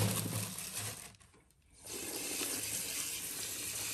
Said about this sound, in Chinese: 把这个香菇给它冲干净